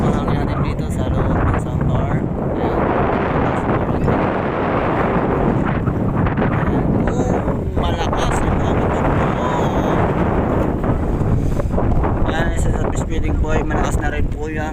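Strong beach wind buffets the microphone in loud, continuous roaring gusts, with faint voices barely audible underneath.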